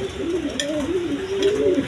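Glossy, large running pigeons coo steadily in a wavering, continuous call, close and fairly loud with no talk over it.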